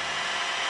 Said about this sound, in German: In dieser Werkstatt in Bogotá wird daher ein Ultraschallbohrgerät benutzt.